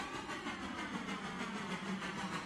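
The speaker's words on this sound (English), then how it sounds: "This train is absolutely flying right now" A train in the railroad game Railroader runs fast, giving a continuous rumbling, rattling drone with faint rhythmic clatter, steady and fairly close with no talk over it.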